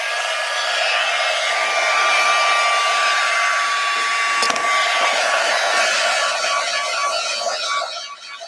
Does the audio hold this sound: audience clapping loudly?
no